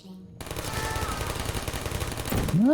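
Video game turrets firing a rapid, sustained burst of automatic gunfire after a brief quiet start, continuous and fairly loud, with a rising tone at the end.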